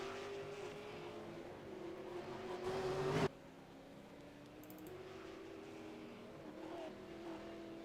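A V8 Supercar in the iRacing simulator at Circuit Gilles Villeneuve, its engine droning steadily then climbing in pitch before cutting abruptly, followed by a quieter, lower engine hum with occasional revving, no voices.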